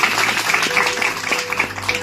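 An audience at a Women's Day event applauds with steady, dense clapping that lasts throughout, with a faint voice mixed in beneath.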